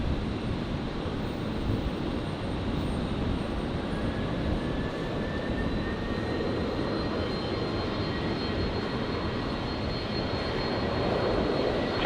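A Rex airliner's jet engines at Brisbane airport, a steady, loud roar with a broad rumbling low end and a faint whine above, continuous and unbroken with no voices.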